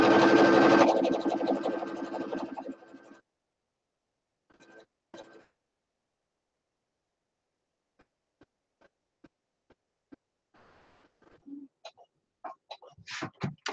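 A sewing machine top-stitches an apron, running in one loud, steady whirring burst that stops abruptly, followed by quiet and then scattered clicks and handling knocks.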